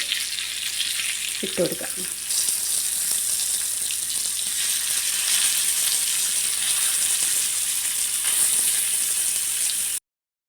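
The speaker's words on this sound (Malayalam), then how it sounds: "ഇനി മറുവശം കൂടി നമുക്കൊന്ന് പൊരിച്ചെടുക്കാം" Mackerel fries in a hot pan with a loud, continuous hiss and crackle. A brief scrape and clatter comes early as the fish is turned, then the steady frying goes on under a short spoken remark before cutting off.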